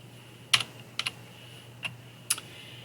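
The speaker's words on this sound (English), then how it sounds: "we're going to go below and see if it'll let us type something else" A few separate keystrokes on a computer keyboard while typing in Microsoft Word: four short, sharp clicks spaced unevenly over a steady low hum, close and fairly quiet.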